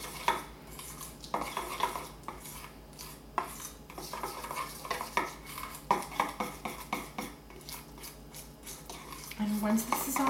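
A spoon clinks and scrapes in a bowl while a milk and Kirschwasser glaze for cherry scones is stirred smooth, in repeated irregular taps and rubs close by.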